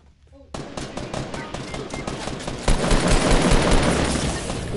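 Rapid gunfire in Fortnite bursts in sharply after a quiet moment, a dense rattling string of shots that grows louder and fuller partway through, with no voices over it.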